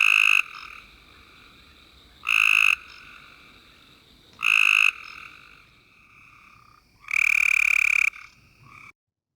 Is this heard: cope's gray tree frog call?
yes